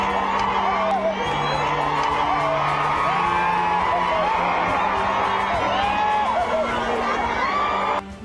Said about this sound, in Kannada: ಸುದೀಪ್ ಹೋದ ಕಡೆಯಲ್ಲೆಲ್ಲ ಅಭಿಮಾನಿಗಳ ಜೈಕಾರ